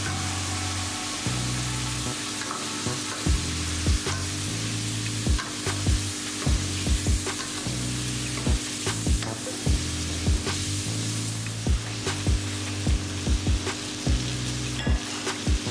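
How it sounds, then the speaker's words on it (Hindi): Chicken cooking in a pan with a little water after frying with ginger and garlic for yakhni pulao, a steady close sizzle running throughout, broken by repeated scraping knocks of a spoon stirring at an irregular rhythm, with no talking. "फिर थोड़ा सा पानी डालकर चिकन को पकाएं।"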